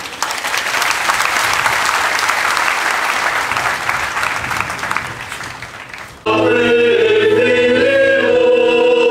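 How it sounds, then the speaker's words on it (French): A church congregation applauds during a Catholic diaconal and priestly ordination ceremony, a full, sustained wash of clapping that stops abruptly and gives way to loud sustained music. "applaudissons pour eux."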